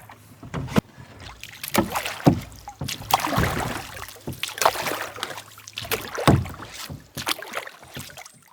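A solo canoe pushes through shallow water over a mucky lake bottom in Algonquin Park in November. Close paddle strokes come as irregular splashes, drips and knocks against the hull, with light wind and no voices.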